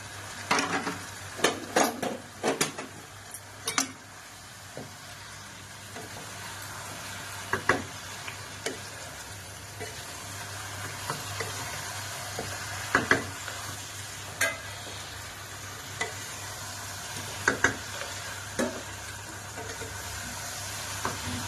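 Chicken and chopped capsicum are stir-fried in a pan, a low steady sizzle under frequent spatula scrapes and clinks against the metal, busiest at the start.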